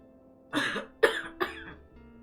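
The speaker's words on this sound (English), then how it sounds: "I am sick, and you may hear me cough." Three hoarse coughs in close succession, near and fairly loud, separated by brief quiet.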